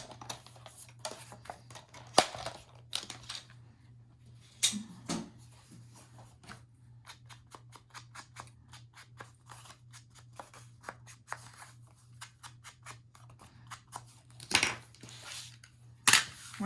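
Scissors snip through a photo print in a quiet room, a rapid run of small crisp cuts with brief pauses, faint and close, alongside a steady low hum.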